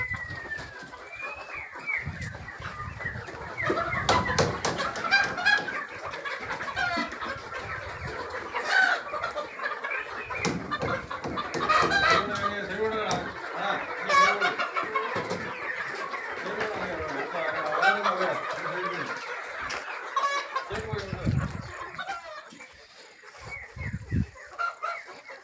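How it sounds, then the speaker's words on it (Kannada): Native country chickens on a small farm plot, with clucks and short calls from several birds scattered irregularly across a fairly steady outdoor background and occasional louder calls close by. "ಇದು ಪ್ಯೂರ್ ನಾಟಿ ಕೋಳಿಗಳು."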